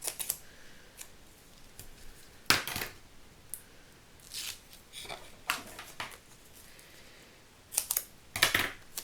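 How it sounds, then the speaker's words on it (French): Scissors snip through card stock while a handmade birth announcement card is put together with double-sided tape. There are several sharp, scattered cuts over a quiet background, and no one speaks. "Ciseaux."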